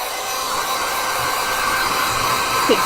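A heat tool blows steadily to dry a whimsical gouache landscape painting, giving a loud, continuous, even whoosh for the whole stretch with no voices.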